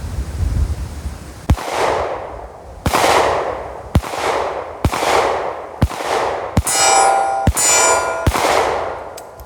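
A Hi-Point .40 handgun fires eight loud, sharp shots at roughly one-second intervals, each crack followed by a brief ringing decay as the action cycles, with a few metallic pings mixed in.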